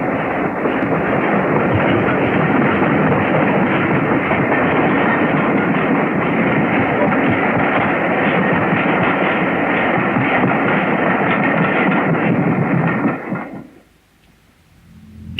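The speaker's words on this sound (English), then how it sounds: "Flying Scotsman approached Doncaster, where she came to a stand exactly 6 minutes early" Flying Scotsman, a steam locomotive, runs into Doncaster station on a frosty evening, a loud, steady rumble of rolling wheels and rail noise that holds for about thirteen seconds, then cuts abruptly to near silence as it comes to a stand.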